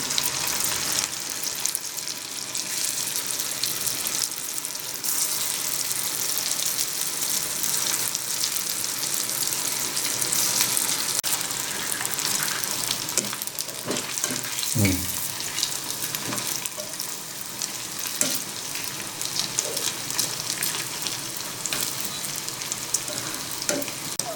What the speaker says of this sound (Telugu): చూసారు కదా ఎలా ఫ్రై అయినాయో